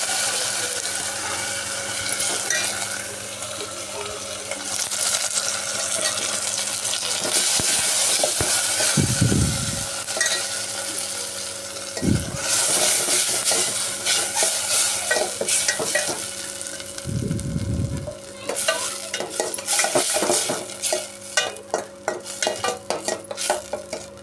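Ginger garlic paste and tomatoes fry for a chicken curry, with steady loud sizzling and bubbling throughout, broken by the scrape and clatter of a spoon stirring the pan, no voices.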